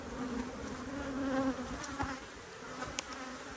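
Honey bees swarm around an open hive, their dense buzz droning close and steady, with individual bees whining past the ear now and then.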